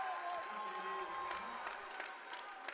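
Fans applaud in a gym at a high school basketball game between Prescott and Coronado as seniors leave the court, steady distant clapping and crowd murmur under a commentator's voice.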